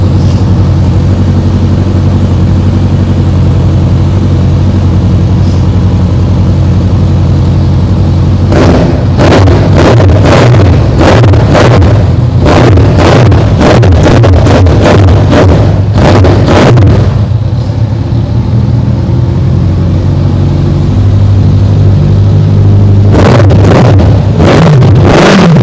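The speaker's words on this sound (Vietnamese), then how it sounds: "tiếng mô Z1000 là rất là hay" A Kawasaki Z1000 motorcycle engine idles loudly and close, then breaks into repeated sharp throttle blips and revs in a clustered run midway, with another short burst of revving near the end.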